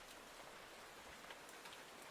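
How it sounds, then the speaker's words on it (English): Steady rain patters on a surface in an even, quiet wash with scattered faint drop ticks and no voices. "But it was the rain noise."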